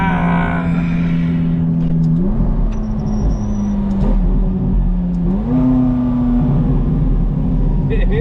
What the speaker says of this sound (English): You hear that mid-engine V8, you little piggies?